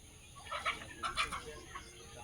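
Chickens in a Sundarbans village garden cluck in short, close bursts, with a few clustered calls rising over a quiet outdoor background.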